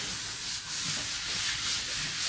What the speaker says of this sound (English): it doesn't make as much noise when I pass my hand over it because it's very smooth